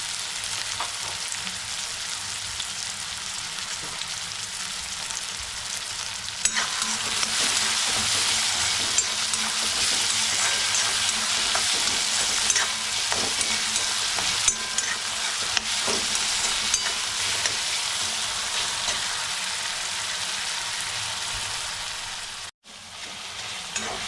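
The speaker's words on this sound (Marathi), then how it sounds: "टॉमॅटो आपल्या तेलामध्ये लवकर शिजलं पाहिजे म्हणूनसाठी मी चवीप्रमाणे त्यात मीठ घालते" Tomatoes fry in oil with salt in a pan, a steady close sizzle lasting many seconds with occasional stirring scrapes and clinks, no talk over it.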